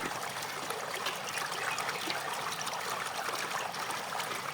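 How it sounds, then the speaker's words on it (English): Water drains steadily from freshly harvested sturgeon caviar, a continuous close trickle and splash that holds at an even level throughout with no voices. "We carefully drain all the water so as not to spoil the taste of our caviar."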